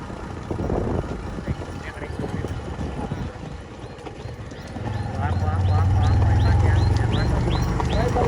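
Hooves clip-clop steadily as a horse moves along, with people talking over it and a low rumbling engine-like hum joining partway through.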